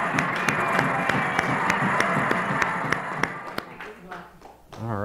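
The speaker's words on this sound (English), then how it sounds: "give Tracy and the kids a big round of applause" An audience applauds and claps as children leave a Sunday church service, a dense steady burst of clapping that fades out after a few seconds, with a voice speaking near the end.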